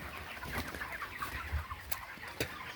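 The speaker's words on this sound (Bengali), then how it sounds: "এই যে আমার মুরগিগুলো দেখতে পাচ্ছ" Broiler chickens about 32 days old and near 2 kg cluck softly in a farm shed, a faint scattered chatter of clucks at a distance with no voices.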